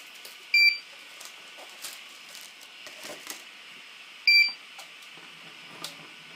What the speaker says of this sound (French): il bip tout le temps qu'on n'a pas changé pour vous signaler qu'il est en attente du deuxième filament